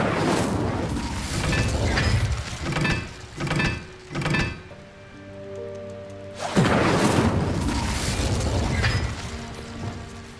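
An Incendio fire spell is cast in Hogwarts Legacy: a run of whooshing, crackling fiery bursts, then a low humming lull, then a loud blast that roars on to the end.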